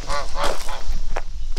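Several loud, nasal goose honks close by on a farm, coming in quick bursts one after another.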